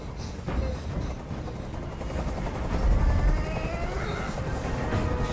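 A helicopter in the video game Detroit: Become Human produces a steady, loud rotor rumble and whir that holds throughout without pause.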